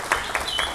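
Children clap briefly at a storytelling event for orphans: a short burst of applause with a few distinct sharp claps over a steady patter.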